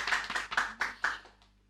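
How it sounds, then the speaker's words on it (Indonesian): A few people clap hands at a casual indoor gathering about a school automotive competition, several sharp, irregular claps close by that trail off within a couple of seconds. "Tepuk tangan dulu boleh."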